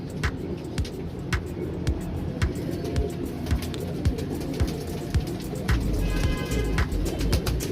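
Teddy pigeons kept as fancy birds coo repeatedly close by, with sharp clicks and fluttering wing sounds, while a car hums faintly in the background.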